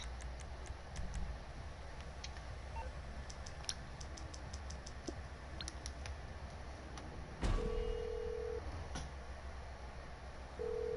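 Phone ringing in the GTA V video game as a call goes out to a mechanic: a steady electronic ring tone sounds twice over in-game background noise, preceded by faint ticking taps.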